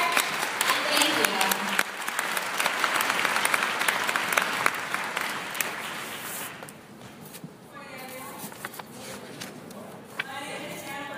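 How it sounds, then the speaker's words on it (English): A crowd at a university new-student-day event applauds steadily, the clapping dense and fairly loud before tapering off. Scattered claps and a few voices linger toward the end. "I want to give you guys a round of applause."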